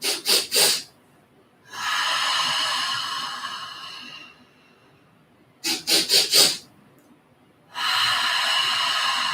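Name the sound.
several sharp quick inhales through the nose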